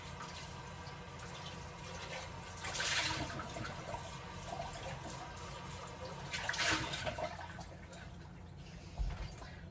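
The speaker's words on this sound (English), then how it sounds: "I'm gonna rinse this bowl." A mixing bowl is rinsed under a running kitchen tap, giving a soft, steady flow of water with two brief louder surges as the stream hits the bowl.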